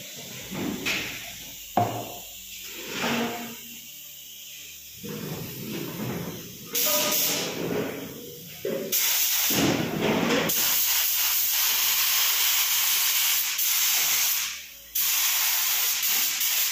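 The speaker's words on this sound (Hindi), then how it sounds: "अब मैं थोड़ा सा मटेरियल डाल के आपको स्प्रे करके दिखाऊंगा।" A pilot spray gun sprays material in repeated hissing bursts of varying length, some short and some sustained, close and fairly loud, with handling clatter between them and no talk.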